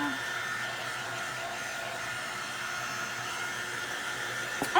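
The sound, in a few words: hair dryer used for crafting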